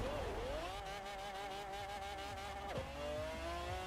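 An F1 GT car in Forza Horizon 4 revs up through the gears, its engine tone climbing steadily, dropping sharply at a shift, then rising again, loud and continuous.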